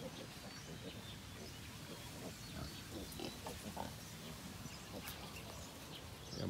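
Pigs and piglets mill about in a breeding pen, giving a faint, busy bed of grunts, shuffling and rustling with a few soft squeals and distant bird chirps throughout.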